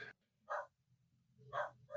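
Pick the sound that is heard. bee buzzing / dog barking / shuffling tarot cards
dog barking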